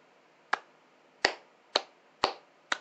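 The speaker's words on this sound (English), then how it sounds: "that's me clapping in amazement" Five sharp, sparse claps or snaps spaced irregularly, crisp and close, with quiet between each.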